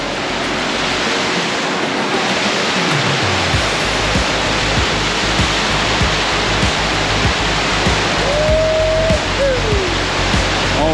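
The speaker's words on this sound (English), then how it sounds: "This is the first of the major waterfalls on this trail." Waterfall pouring into a basin on a forest trail in Acadia National Park, a steady loud broadband rush that fills the whole clip, with a brief whistle-like tone near the end.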